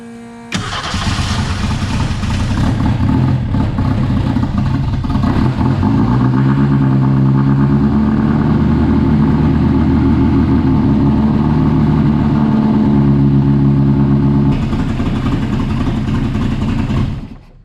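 An engine on a Rampini cranks and fires after a cylinder head replacement, then runs loud and close at a steady fast idle with a throaty drone and a shift in pitch partway through, before cutting off at the end.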